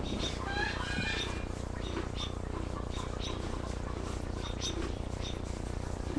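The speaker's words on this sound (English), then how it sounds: "our chickens are quite vocal right now" Chickens squawk and cluck in short, scattered calls over a constant loud outdoor background noise, several birds sounding at moderate distance.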